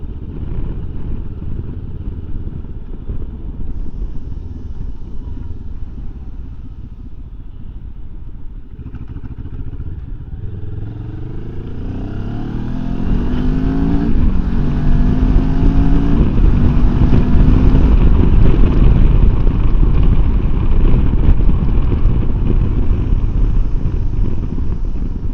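A 2024 Benelli 702 low seat motorcycle rides along, its engine droning steadily then rising in pitch as it accelerates, loud and continuous under wind rush with no talking.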